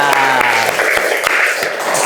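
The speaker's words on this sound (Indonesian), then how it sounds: "Tepuk tangan dong" Classroom applause from a group of primary school pupils, steady clapping that runs throughout with some voices and background chatter mixed in.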